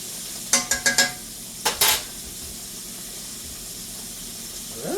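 Food hits a hot pan in bursts of sharp sizzling and frying, a few quick crackling spurts, then settles to a soft steady hiss.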